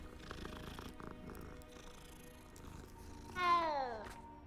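A cat purrs softly while being petted in the video game Hogwarts Legacy, a faint, low rumble under quiet background sounds, ending with a brief rising meow.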